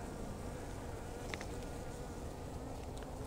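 Honey bees hum steadily in an open hive during a beekeeping inspection, a dense, continuous close-up drone with no voices, only a few faint handling clicks.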